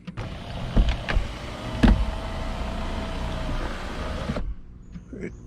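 A salvaged convertible sunroof motor on a BMW R52 Mini whirs steadily for about four seconds as the roof opens, with a few clunks at the start and a loud thunk near the middle, then cuts off abruptly into quiet.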